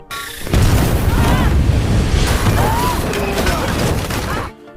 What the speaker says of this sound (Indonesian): Tembak menembak satu arah pun tidak terhindarkan